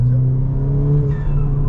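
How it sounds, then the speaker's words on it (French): A tuned, stage 2 Ford Fiesta of about 280 hp runs with a steady low engine drone and a faint hiss as the turbo dump valve vents, heard close from inside the car. "Vous entendez là le dump valve?"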